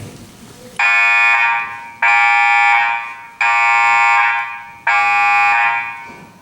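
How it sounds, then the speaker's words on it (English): A scorer's table buzzer at a basketball gym ceremony blares four times, each long loud harsh blast fading slightly before cutting off, separated by short gaps. "we will sound the buzzer 4 times in accordance with the 4"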